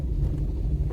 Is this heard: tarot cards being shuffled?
no